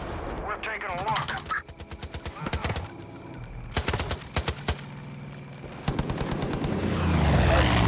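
Bursts of automatic gunfire from the Far Cry 5 game, loud clustered volleys separated by short gaps, with a whooshing rumble building at the end.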